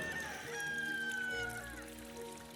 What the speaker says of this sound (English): I can hear those damn roosters already.